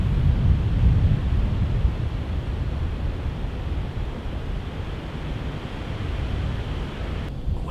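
Cold, strong wind blows across an open Kansas field during a November archery deer hunt, a steady low roar of gusts buffeting the microphone throughout with no talking.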